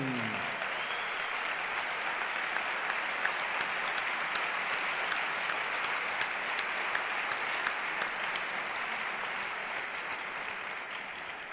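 Audience applause for the composer at a band music competition concert hall, a sustained, even wash of many people clapping from a distance, continuing steadily without breaks.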